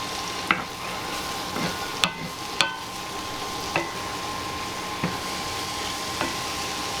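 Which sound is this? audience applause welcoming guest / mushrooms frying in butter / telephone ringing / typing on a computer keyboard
mushrooms frying in butter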